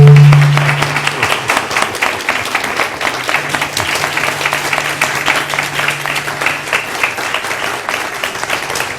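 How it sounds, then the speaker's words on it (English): A large audience at a Constitution Day event on Kansas in the U.S. Supreme Court bursts into sustained applause, dense and even, holding strong for the whole stretch. "Please give them a warm applause."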